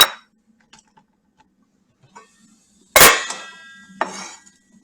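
Chopped celery and vegetables scraped off a board into a pan with onions, two sharp metallic clangs of knife or board against the pan followed by a short scattering rattle, otherwise quiet.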